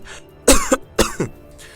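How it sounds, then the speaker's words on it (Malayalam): A man coughs twice in quick succession, harsh and close, with a short raspy throat-clearing edge in each burst, in a quiet setting. "അവൻ നിർത്താതെ ചുമച്ചുകൊണ്ടിരുന്നു"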